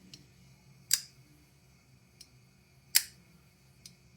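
A Gecko Customz Sikorae budget flipper knife is handled up close, giving two sharp crisp clicks about two seconds apart with a few fainter ticks between them, all set against near silence.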